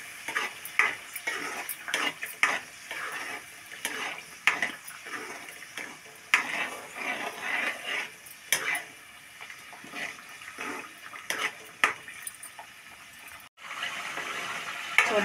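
Onion masala for chicken curry fries and sizzles in a pan, with repeated close stirring scrapes over a steady crackle that keeps running, then briefly stops and resumes near the end.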